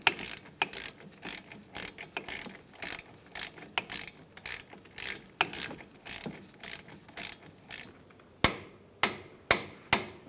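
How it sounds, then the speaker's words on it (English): A torque wrench ratcheting suspension bolts on a 2007-2015 Mazda CX-9, a close run of quick, even clicking strokes that ends with several slower, louder, separate clicks. "We're going to torque both of these down to 85 foot-pounds."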